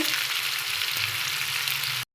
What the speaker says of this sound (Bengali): দেখো মাছের দু পিঠই ভাজা হয়ে গেল লাল লাল করে।